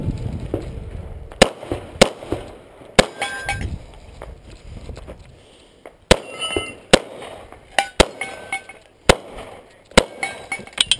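Pistol shots at an action pistol competition at an outdoor shooting range, sharp loud cracks fired singly and in quick pairs, with a few shouted instructions from a nearby person between them.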